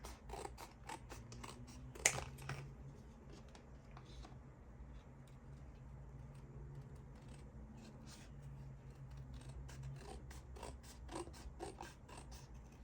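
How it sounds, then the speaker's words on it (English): Scissors cut images out of thick cardboard in a quiet room: a run of crisp, close snips and crunches comes in irregular bursts, with a sharper cut near the start and more clustered snipping toward the end. "I'm just gonna cut out these images and words here."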